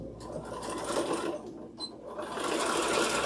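A sewing machine runs a quarter-inch seam on an improv-pieced quilt panel, its rapid needle chatter steady and close, with one brief pause midway before it continues.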